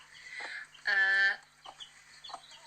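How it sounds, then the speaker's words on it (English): A mother hen with newly hatched chicks gives a few soft, low clucks spread across a couple of seconds, with one louder, longer harmonic call in the middle. No one talks. "she's making that little clucking noise to tell them to come over to her"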